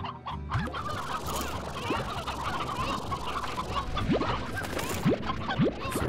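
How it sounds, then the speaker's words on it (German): Several chickens cluck in the video game Slime Rancher, busy overlapping clucks and short rising squawks scattered throughout over a steady farmyard background, close and fairly lively. "Da sind auch ganz viele Hühnchen. Wo steckst du, Hühnchen?"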